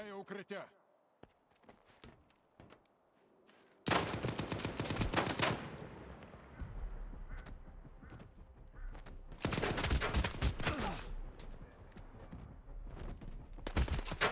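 Gunfire in the video game Stalker 2 during a firefight: dense bursts of automatic shots and rapid single reports come in loud clusters, with footsteps and quieter gaps between them.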